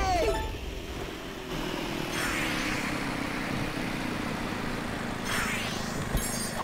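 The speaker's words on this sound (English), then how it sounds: "Julian, command you to start your engines." Kart engines rev in the DreamWorks Superstar Kartz racing video game, a loud, continuous buzzing drone with rising whooshing pitch sweeps as karts pass, with faint talk underneath.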